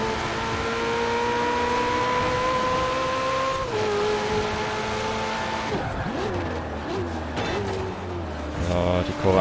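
Forza Horizon 4 car spinning its wheels at a race start: a loud engine drone with rising revs, tire squeal and skidding as the pitch shifts, with a voice speaking over it.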